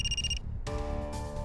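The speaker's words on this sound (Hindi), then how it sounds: "सर आशा के ससुर का फोन है।" A telephone rings with a bright electronic ringtone, a short burst followed by a pause and then a steadier, sustained ring close by.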